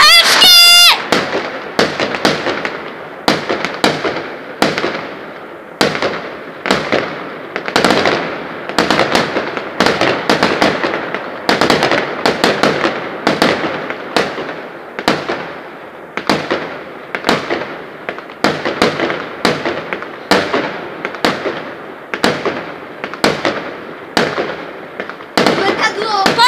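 New Year's Eve fireworks launch and burst again and again, a long run of sharp bangs with ringing crackle tails spaced a second or so apart, with voices talking between the explosions.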